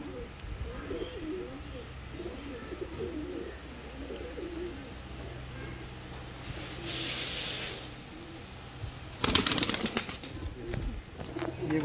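Pure '35 wala' breed pigeons coo repeatedly at close range, with soft wing flaps and a brief louder flutter near the end, over a low background hum.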